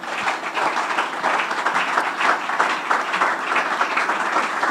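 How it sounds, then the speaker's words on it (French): A studio audience cheers and claps continuously for a gospel singer's performance on a TV set, with dense, sustained applause throughout. "Est-ce qu'on peut acclamer pour ces dieux?"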